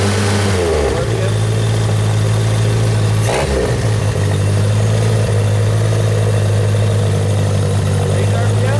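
The engine of a Genie boom lift drops to low RPM, its pitch falling quickly and then settling into a steady, loud, close idling drone with a brief dip partway through.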